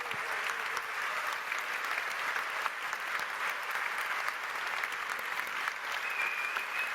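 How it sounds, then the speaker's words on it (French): Ceremony audience applauding ceramist Grégoire Scalabre as he receives his award, a steady, dense wash of clapping from a sizeable crowd that holds evenly for the whole stretch with no talk over it. "C'est vos applaudissements, Grégoire"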